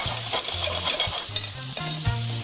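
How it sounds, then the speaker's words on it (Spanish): Onion and bell pepper fry in olive oil in a pan, sizzling steadily while a utensil stirs them with brief scraping strokes. "Vamos a ponerle al aceite de oliva un poquito de cebolla, morrón."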